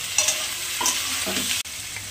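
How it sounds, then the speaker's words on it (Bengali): Onions with boiled potato and tomato frying in a pan for masoor dal, a close hissing sizzle broken by spoon scrapes and clatter, then a sudden sharp knock and a brief drop before the sizzle resumes. "পেঁয়াজগুলো একটু ভাজা হয়ে গেছে, এবার সিদ্ধ করে রেখেছিলাম আলু, টমেটোটা দিয়ে দিলাম"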